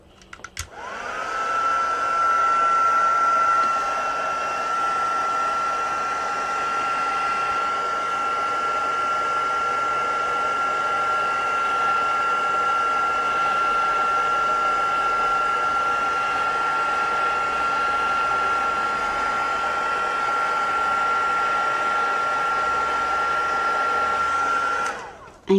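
A heat tool blows hot air steadily for about twenty-five seconds onto ribbon during card-making with a stippled roses stamp set, giving a loud, even whirring hiss with a thin whine running through it and no talking.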